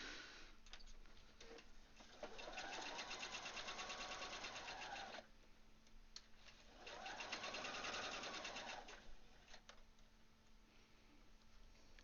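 A sewing machine stitches during a garment alteration, running in two sustained bursts of rapid needle clatter with brief pauses between them, fairly close and steady.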